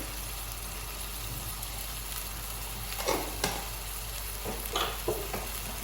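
Tomatoes and onion frying in a pan with salt and pepper, a soft steady sizzle broken by a few louder scraping stirs near the middle and end, quiet and close, with no voices.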